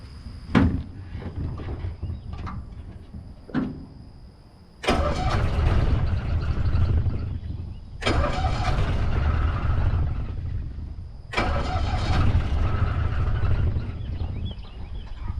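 A 1965 Cushman engine cranks several times in short bursts, then catches and runs loud and rough close by, stalling and restarting in a few steady stretches of mid-pitched engine noise.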